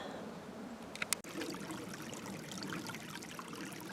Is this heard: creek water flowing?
yes